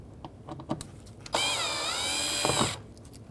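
A power screwdriver whirs in one steady burst of about a second and a half, backing a Phillips screw out of the mirror cover on a 2007-2013 Mitsubishi Outlander, with faint clicks and handling noise before and after.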